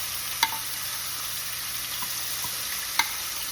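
Shrimp sear in a hot pan with a steady, close broadband sizzle, broken by a couple of brief sharp clicks from a utensil touching the pan, with no talk.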